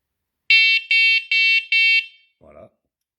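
BNTTEAM bike light with built-in LCD speedometer sounding four loud, shrill, evenly spaced alarm beeps at close range, followed by a brief low click.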